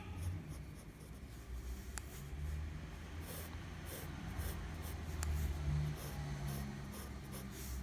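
Pencil drawing on paper, shading around a drawn shadow and thickening an outline: a continuous soft, close scratching and rubbing with steady strokes throughout, with no one speaking.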